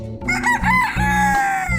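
A Silver Laced Polish chicken crowing close by, one loud, full cock-a-doodle-doo with a rising start and a long held final note, with no talking.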